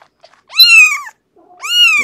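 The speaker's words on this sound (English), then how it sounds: "The mama summoning meow." A mother cat gives two loud, drawn-out summoning meows close by, each about half a second long with a short quiet gap between them, in an otherwise silent indoor setting.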